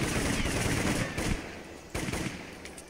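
Rapid automatic gunfire in the video game Orion Prelude: two loud, sustained bursts of fast shots, the first longer and the second starting after a short pause, then trailing off.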